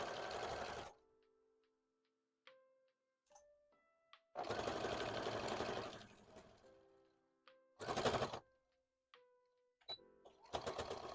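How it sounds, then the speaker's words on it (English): A sewing-machine embroidery unit stitches in several bursts of rapid, rhythmic mechanical whirring, each lasting a second or two, separated by quieter pauses with small clicks and beeps. "it's machine embroidery, it's not hand embroidery"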